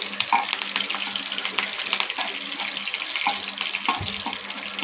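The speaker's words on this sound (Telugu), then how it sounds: "ఇప్పుడు కరివేపాకు వేద్దాం." Curry leaves dropped into hot oil crackle and sizzle steadily, with sharp spitting pops and stirring clatter near the pan.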